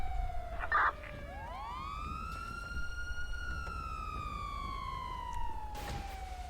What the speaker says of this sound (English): sirens off, please?